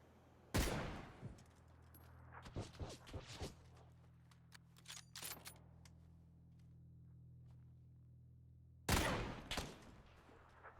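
An M24 sniper rifle fires in PUBG on the snowy Vikendi map: a loud single crack opens, followed by scattered fainter shots and clatter, then another sharp loud report near the end over a low steady hum.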